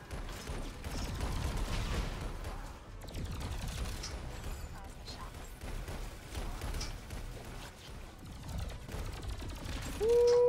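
Gunfire from a weapon in the co-op shooter Alienation, a dense, steady stream of mechanical shots and clatter running throughout with game effects layered in, closing on a rising tone.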